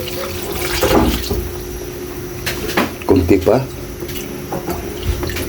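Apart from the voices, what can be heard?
water being poured into a cooking pot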